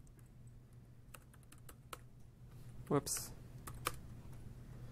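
Fast typing on a computer keyboard at a tech conference talk, giving a steady patter of clicky keystrokes with a louder burst partway through and a short spoken exclamation.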